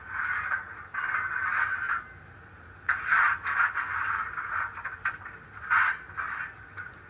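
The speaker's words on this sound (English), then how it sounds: "Coal shovel." Repeated gritty scraping sounds in uneven bursts of a coal shovelling sound effect from the DCC sound decoder of an Oxford Rail J26 model steam locomotive, close and moderately quiet with no talking.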